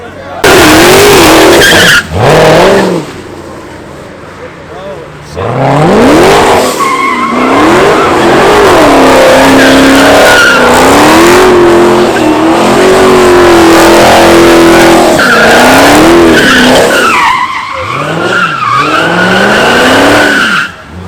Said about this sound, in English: Widebody Hellcat going dummy.